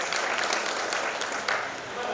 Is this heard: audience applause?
yes